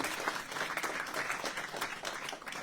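An audience at a Hindi Divas celebration in Canberra claps for teachers and parents, a dense, fairly quiet round of applause heard from a distance, steady throughout.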